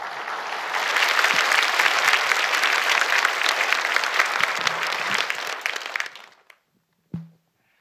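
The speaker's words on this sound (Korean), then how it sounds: "우리 뜨거운 박수로 모시겠습니다." A church congregation at a healing revival service applauds warmly to welcome the preaching pastor, a dense wash of clapping that thins out and fades, followed by a single low thump after a short silence.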